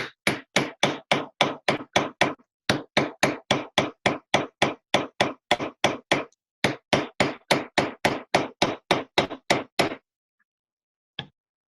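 A hammer strikes a chasing chisel over and over for repoussé work on metal set in pitch, with loud, evenly spaced close blows in three quick runs broken by short pauses, then a single late tap.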